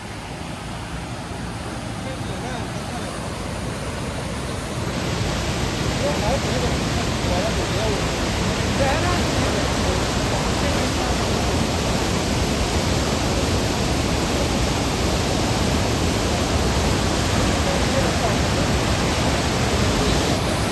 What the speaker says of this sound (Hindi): दिखाते हैं आपको चंद्रभागा नदी किस रफ्तार से चल रही है